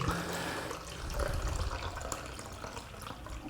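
Yellowish used film developer pours back into its storage container in a steady liquid stream, close and fairly quiet, with no voices.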